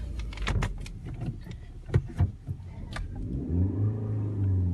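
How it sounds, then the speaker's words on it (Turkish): A car's engine rises into a low, growing rumble as it pulls away, after a few sharp clunks and knocks close by. "G vitesimizi aldık ve araba şu an gidiyor"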